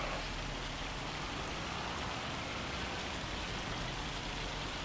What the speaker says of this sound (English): Ah, here's the rain.